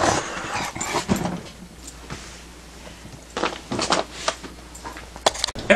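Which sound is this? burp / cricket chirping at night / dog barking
dog barking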